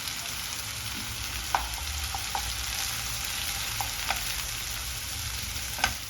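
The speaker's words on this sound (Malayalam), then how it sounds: "എന്നിട്ട് എണ്ണ ഒന്ന് തെളിയണത് വരെ ഒന്ന് വഴറ്റിയെടുക്കാം" Ground masala paste sautés in oil with an even, moderate sizzle and hiss, broken by a few light clicks and scrapes from a stirring spoon. No one talks.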